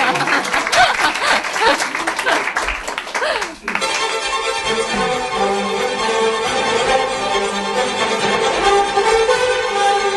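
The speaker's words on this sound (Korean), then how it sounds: "자, 우리 박수로 환영하겠습니다." Audience applause welcoming two presenters on stage at a Korean education-movement general assembly event, a dense burst of clapping that swells, dips briefly, then continues steadily with some talk mixed in.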